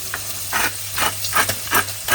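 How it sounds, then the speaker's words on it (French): Guanciale frying in a pan for risotto alla carbonara, a steady close sizzle broken by four or five rhythmic bursts of stirring or scraping. "pendant que notre guanciale est en train de cuire"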